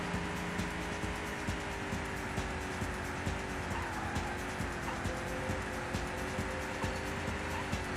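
Race car engine from the PC racing game POD, a steady loud whine with rising and falling pitch and occasional tire squeal, heard alone with no talk.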